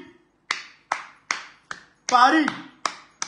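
Clapping at a political gathering in Côte d'Ivoire: sharp, evenly spaced claps in a steady beat, loud and close, with a short burst of voice partway through.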